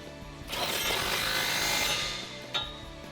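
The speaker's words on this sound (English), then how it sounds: "Grab your 18mm socket and tighten it down." A ratchet with an 18mm socket tightens a body bolt on a Jeep Wrangler JK while rock sliders are installed, giving a close, continuous rasping whir of about one and a half seconds and then a single sharp click.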